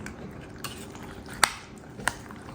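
Slit green chillies being stirred through thick curd with a spoon, a few soft scraping stirs with sharp clinks of the spoon against the bowl, close and quiet, without talk.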